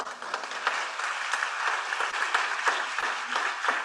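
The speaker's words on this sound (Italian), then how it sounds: "io farei davvero un grande applauso a" A crowd gives sustained applause at an award ceremony for a Veneto heritage school competition, steady dense clapping with a few louder individual claps, moderately distant and even throughout.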